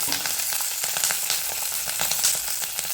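Green chillies frying in oil in a pan on a low flame, a loud continuous close sizzle with bright crackling pops all through, no voices.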